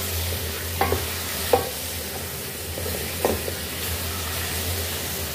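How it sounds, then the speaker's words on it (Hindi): Chicken being stirred and fried in a pan makes a steady hissing sizzle, with a few soft scraping strokes of a spoon at intervals, close and with no voices. "चिकन को हमने अच्छे से भून लेना है"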